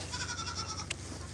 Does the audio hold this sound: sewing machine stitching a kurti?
no